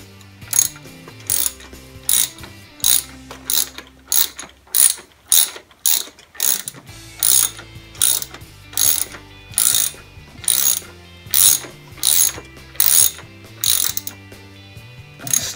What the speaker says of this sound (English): start cranking away with the ratchet